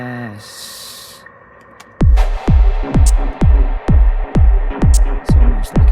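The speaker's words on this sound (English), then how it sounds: "It's almost like a whip, isn't it? Really good. Kind of backwards claps." In Ableton, a reverb-heavy whip-like backwards clap effect repeats in a steady rhythm, eight or so sharp swelling hits after an opening pad-like tone, loud and punchy.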